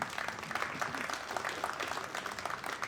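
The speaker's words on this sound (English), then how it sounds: "applause there for that break and run" Pool hall audience applauding a break and run during the final match of the 2019 Diamond Las Vegas Open, a steady moderate patter of many hands filling the room for about three seconds.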